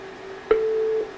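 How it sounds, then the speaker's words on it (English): A Cisco Unity Express voicemail system sounds its recording tone, one steady electronic beep lasting about half a second over a faint line hum. "To record a new name, say your first and last names at the tone"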